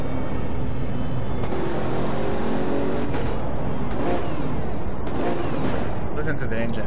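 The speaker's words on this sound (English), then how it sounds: "so you can hear the engine noise" A Pagani Huayra in the racing game Assetto Corsa roars as its engine revs and climbs through gears, loud and raspy with sharp backfire pops near the end, while someone talks over it.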